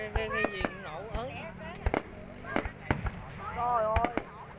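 Fireworks exploding in repeated sharp cracks and bangs, several bursts spread unevenly over a few seconds. Someone talks excitedly over them.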